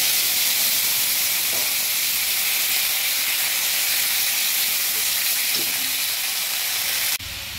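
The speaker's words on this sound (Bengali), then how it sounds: "এবার দিয়ে দিচ্ছি আদা, সামান্য একটু জল দিয়ে দিচ্ছি।" Ginger fried in oil with a little water added gives off a loud, steady sizzling hiss of steam that continues close and unbroken, then softens abruptly at the end.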